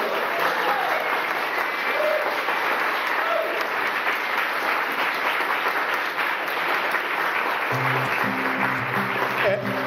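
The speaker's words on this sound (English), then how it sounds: "let's have a round of applause for Mike and Kate" Wedding guests give a round of applause for the couple, continuous crowd clapping with scattered cheers, and a tonal hum or music creeping in near the end.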